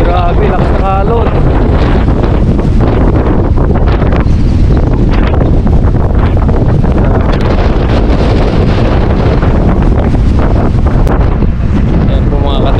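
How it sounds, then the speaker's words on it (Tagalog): Strong wind and heavy waves at a dam during a fishing outing, with loud, steady wind buffeting across the whole stretch and continuous wave wash beneath it. "lakas ng alon"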